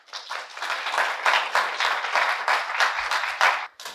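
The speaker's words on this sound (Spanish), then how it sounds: "los recibimos con un fuerte aplauso" A lively round of audience applause welcomes the guests of a conversatorio, close and full, with dense clapping that swells and dips in waves before stopping abruptly near the end.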